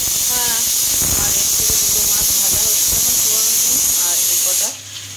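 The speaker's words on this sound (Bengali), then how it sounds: "এখানে দুটো মাছ ভাজছি" Two pieces of katla fish fry in a pan in a home kitchen, giving off a loud, steady hiss and sizzle while a voice talks over it. The sizzle drops away abruptly near the end.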